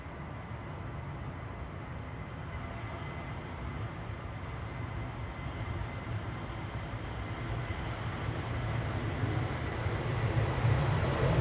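Ryanair airliner at Manchester Airport, a steady broadband engine roar that builds gradually louder over the stretch, heard alone without voices.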